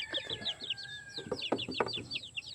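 A caged chicken clucks repeatedly in short, chirpy bursts, close by and steady, with no voices over it.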